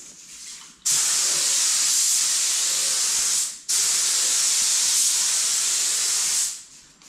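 Two long bursts of spray gun hiss as a metallic silver coat goes onto a Mazda 929, each lasting nearly three seconds with a short pause between, close and loud.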